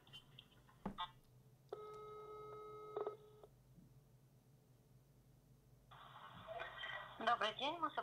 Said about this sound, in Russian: Оставайтесь, пожалуйста, на линии. Я переключаю вас на специалиста по социальной газификации.